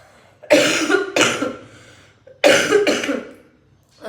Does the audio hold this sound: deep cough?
yes